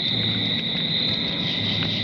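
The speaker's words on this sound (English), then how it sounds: "The sound of crickets could be heard all around." Continuous high-pitched cricket chirring, steady and fairly close, with a low hum beneath and no talking.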